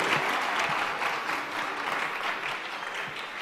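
An audience at a museum debate event applauds in dense, sustained clapping that stays fairly even and fades slightly toward the end, with no talking.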